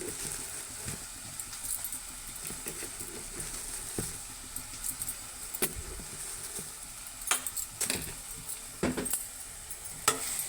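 Sliced onions with chilli powder are stirred in a pan for egg curry, giving a soft continuous sizzle with scattered scraping taps from the spoon, close and fairly quiet, with no talking.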